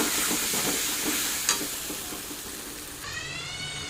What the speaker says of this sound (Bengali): হলুদ গুঁড়ো লঙ্কা গুঁড়ো ভালো করে ভেজে নেব